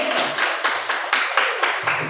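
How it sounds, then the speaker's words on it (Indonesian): A school class claps in unison for a teacher, about eight sharp, evenly spaced claps in a steady rhythm, close and clear with no talking. "Tepuk tangan untuk Pak Arif."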